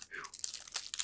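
Softly crinkling and tearing foil wrapper as a pack of Magic: The Gathering Doctor Who cards is opened, quiet close-up crackles and rustles in quick bursts, with a soft voice murmuring at the start.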